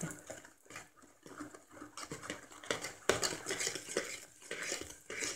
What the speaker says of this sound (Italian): E mescolate.